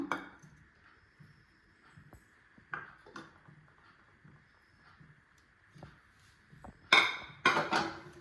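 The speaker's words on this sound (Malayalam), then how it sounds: "അപ്പോൾ നമ്മൾ വഴറ്റി വെച്ചിരിക്കുന്ന പച്ചക്കറികളെല്ലാം ആ ചട്ടിയിലേക്ക് ഇട്ട് കൊടുക്കാം" Sautéed vegetables going into a clay curry pot, with scattered soft knocks and clinks of a spoon against the pot, faint and intermittent, then a louder clattering scrape near the end.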